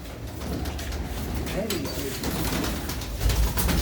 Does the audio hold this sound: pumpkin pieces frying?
no